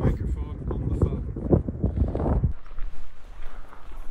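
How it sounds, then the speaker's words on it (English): Strong outdoor wind buffets a wireless iPhone lapel microphone, loud low rumbling gusts that drop off sharply partway through, leaving quieter fluttering noise. "Hopefully you'll be able to hear how windy it is today"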